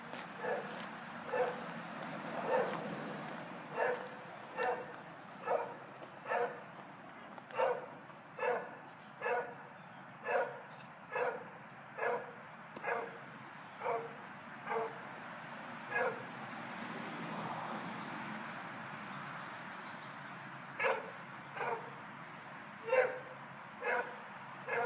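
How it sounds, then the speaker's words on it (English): A neglected dog barks and whimpers in steady, evenly spaced bursts, about twenty barks heard from some distance outdoors, with faint birds and no talk. "This dog's been going on for about"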